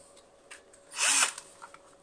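A cordless drill modified to run from a 12V mains power supply whirs up in a single short burst lasting about a quarter second, loud and close, with quiet background before and after.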